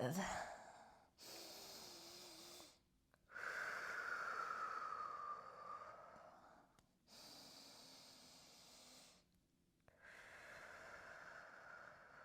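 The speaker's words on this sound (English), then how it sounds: "Take one more deep breath in. Exhale out." Slow deep breathing during a yoga hip-opening flow: long, steady inhales and exhales in a few extended breaths, close to the microphone and fairly airy, with a brief pause between breaths.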